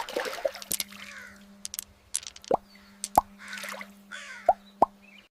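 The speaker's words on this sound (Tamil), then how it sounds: "கற்களை ஒவ்வொன்றாக பானைக்குள் போட்டது மெல்ல மெல்ல தண்ணீரின் மட்டம் மேலே உயர்ந்தது" Stones dropped one by one into a water pot, a few sharp separate plops spaced over several seconds, close and clear, with a low steady hum and soft animated sound effects behind them.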